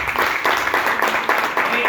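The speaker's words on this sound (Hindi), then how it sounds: "एक जोरदार ताली सर के लिए" An audience claps loudly for a speaker at an event, a dense, continuous wall of applause with a slightly pulsing rhythm.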